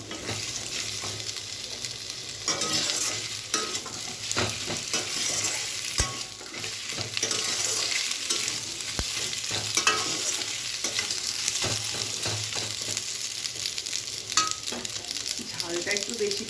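Potatoes fry in oil in a pan with a dense, steady sizzle running throughout, punctuated by frequent stirring scrapes and an occasional metallic knock of the utensil.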